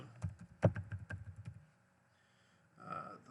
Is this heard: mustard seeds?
no